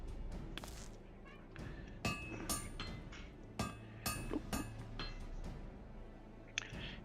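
Metallic hammer strikes on a housing unit of magitech armor in Final Fantasy XIV ring out as a series of sharp, clanking impacts spaced irregularly over several seconds, over a low background hum.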